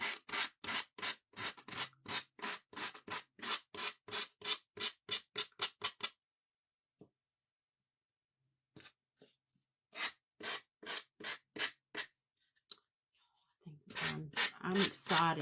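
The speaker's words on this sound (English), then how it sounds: "Let me sand it again where I added these little extra pieces." Rhythmic back-and-forth sanding strokes on a small primitive wooden angel craft, close and loud, in two bursts separated by a silent pause, with brief talk near the end.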